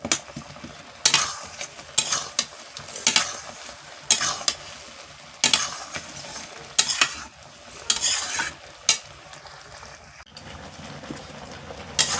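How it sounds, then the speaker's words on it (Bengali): A metal spatula scrapes and presses sour amra (hog plum) pickle in a pan, rhythmic stirring strokes with gentle sizzling between them, close and steady without talk. "আমি একটু খুন্তি দিয়ে একটু গেঁথে গেঁথে দিচ্ছি যাতে মিষ্টিটা ঢুকে"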